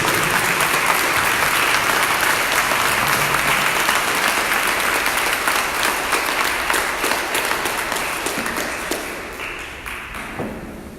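Church audience applauding loudly and steadily as a dense wash of clapping, holding strong for about nine seconds before thinning and fading near the end, with no voices over it.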